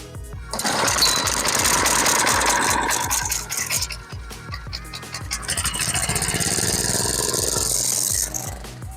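A small pull-started engine powering a water pump at a rural fish pond in Thailand, chattering loudly and steadily after a tug on the rope, revving and settling as it runs on close by.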